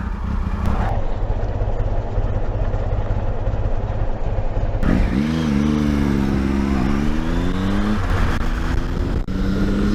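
A 3-litre Ford V6 engine in a Reliant Scimitar GTE revs steadily, rising and falling in pitch with a rough, throaty drone that fills the scene without pause.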